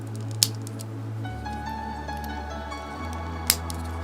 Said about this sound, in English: And then click everything together